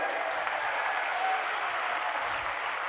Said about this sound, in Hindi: हाथ ऊपर करके ताली बजाइए।